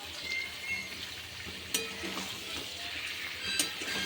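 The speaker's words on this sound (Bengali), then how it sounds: "এবার জিরে আর একটা শুকনো লঙ্কা ফোড়ন দিয়ে" Cumin seeds and a dry red chilli sizzle in hot oil, a steady close frying hiss with a couple of sharp spatter pops; no voices.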